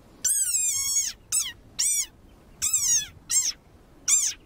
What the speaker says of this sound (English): Like this desert rain frog, squeaking viral sensation.